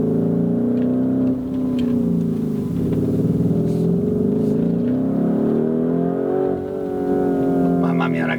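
A Lamborghini Urus SUV engine revving, a deep tonal growl rising and falling in pitch as it accelerates, loud and continuous under someone talking.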